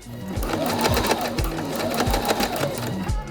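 Sewing machine stitching an elastic casing closed on a summer jumpsuit, a steady fast mechanical chatter of needle strokes running continuously, close and fairly loud.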